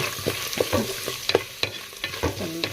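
Food stir-fried in a pan makes a close, continuous sizzle under quick, irregular clinks and scrapes of a spatula moving the pieces around, with no voices.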